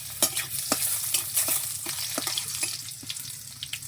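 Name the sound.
cumin, garlic, dried chili and bay leaf frying in oil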